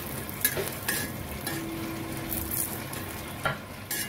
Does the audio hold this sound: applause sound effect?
no